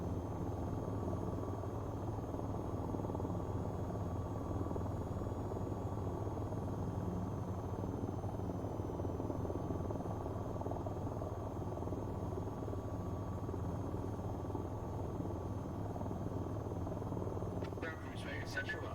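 A constant helicopter rotor drone with steady engine whine in the flight game VTOL VR, unbroken and even, with faint clicks near the end.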